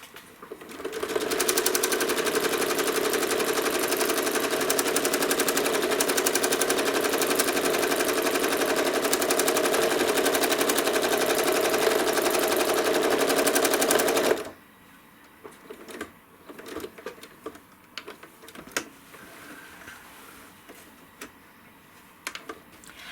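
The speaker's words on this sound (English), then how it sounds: "take a couple small stitches" A sewing machine runs steadily for about thirteen seconds, taking small stitches on a stuffed egg-shaped toy, its loud even hum and rapid needle ticking close up, then stops abruptly, leaving quiet handling noises and light clicks.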